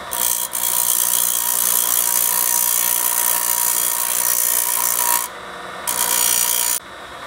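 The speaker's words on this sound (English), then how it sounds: "And we'll grind the ends." Blade ends of a 1953 DoAll saw are ground in a loud, continuous abrasive rasp that stops briefly twice near the end before resuming.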